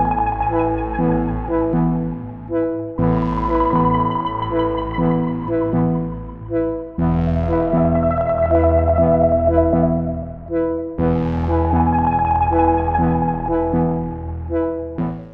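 Layered synthesizer music from a Roland System 100 patch drenched in reverb, sustained harmonic chords with tonal notes repeating in a steady pattern, swelling brighter every few seconds over a continuous bed, no voices.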